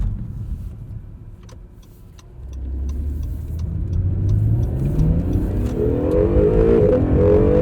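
A 2020 Acura NSX accelerates on the road, heard from inside the cabin as the engine drone swells and rises steadily in pitch.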